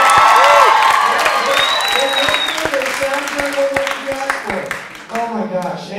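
A studio audience claps and cheers for the band on a live TV show, loud and dense at first and then thinning gradually, with whoops and voices mixed in.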